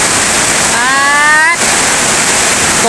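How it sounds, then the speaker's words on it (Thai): Loud, constant rush of heavy rain and running water, with a brief voice heard partway through. "ฝนตก ฝนตกน้ำไหลหลวดหลวดเลยค่ะ"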